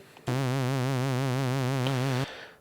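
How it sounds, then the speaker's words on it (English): A sustained note from the Arturia Synthi V software synthesizer with LFO vibrato, a steady, regular pitch warble, about six wobbles per second, loud and alone, ending abruptly after two seconds. "and you hear that warble as vibrato"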